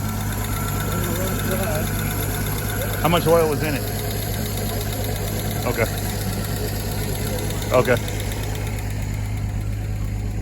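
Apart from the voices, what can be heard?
junkyard car engine idling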